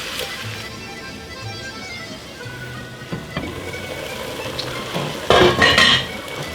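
Onions cooking down slowly in a pan for French onion soup, a soft steady sizzle with occasional utensil scrapes and stirring, ending in a louder clatter of the pan near the end.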